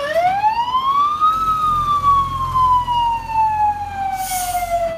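A loud wailing siren sweeps up in pitch, then slowly glides back down, sustained and close, with a low engine rumble beneath.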